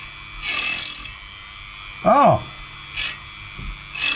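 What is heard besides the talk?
scraping away burnt resistor coating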